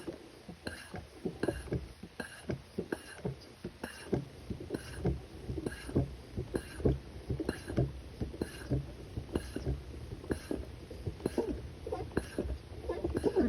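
A newly repaired standard high-pressure PCP hand pump being worked in a test toward 3000 psi, with rhythmic strokes of about one per second, each giving a breathy rush of air, close and steady.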